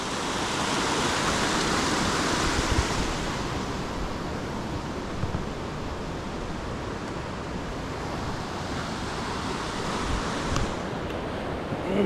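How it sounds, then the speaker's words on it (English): Fast-moving water at Daves Falls, a waterfall in Amberg, Wisconsin, with a steady broadband rush that holds at an even level throughout and no voices. "Got some fast moving water there."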